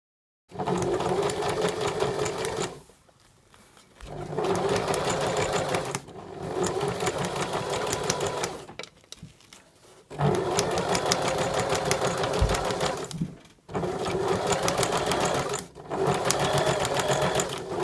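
A sewing machine stitches binding along a Hong Kong seam finish in several long whirring bursts separated by short pauses, close and steady, with no talking.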